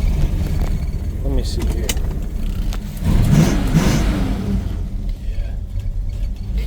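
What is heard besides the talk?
1968 Pontiac Tempest GTO engine revving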